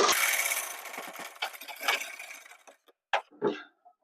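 A sewing machine stitching a gents shirt at the collar root, a loud whirring run at first that fades, followed by a few short mechanical clicks and brief bursts.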